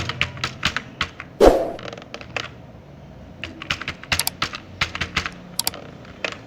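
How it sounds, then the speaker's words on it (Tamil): Brisk typing on a computer keyboard, irregular clicks and taps arriving in quick runs with short pauses, close and clear, no talking. "ஷார்ட்டாக டைப் பண்ணுறேன்"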